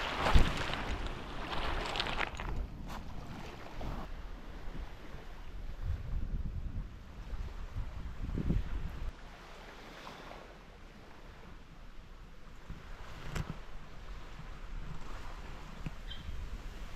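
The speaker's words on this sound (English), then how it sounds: "Wind's really picking up." Strong wind gusts buffet the microphone on an uninhabited tropical island beach, with waves washing in behind; the roar surges loudly, eases mid-way, then builds again, with no talking.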